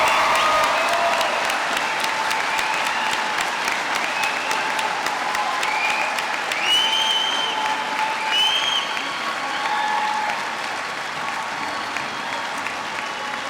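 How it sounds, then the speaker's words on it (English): A large crowd at a spring college graduation commencement gives the graduates sustained, loud applause. Dense, even clapping runs for the whole stretch, with a few whoops rising over it, and it eases only slightly toward the end. "Let's all give them one more round of applause"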